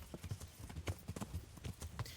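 Horse hooves clip-clopping in a steady, quick rhythm in the medieval video game Kingdom Come: Deliverance, quiet and fairly close, with no speech over them.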